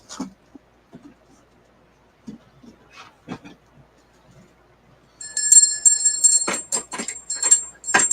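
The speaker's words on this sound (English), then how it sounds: "knocked the bell over. I picked it up and then I dropped it" A small bell is knocked over and then dropped indoors, giving a bright metallic ringing and rattling with several clattering hits in the second half, after scattered quiet taps and thumps.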